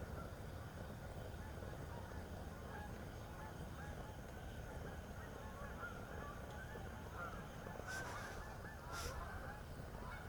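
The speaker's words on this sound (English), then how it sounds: "That's how the geese sound." Faint honking of geese drifting over a steady low rumble of background noise, with a couple of louder calls near the end.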